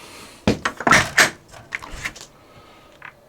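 The bedroom door of a Timberwolf 39DL destination travel trailer opening and closing, a cluster of close wooden knocks, latch clicks and a soft thud over about two seconds, with no talking.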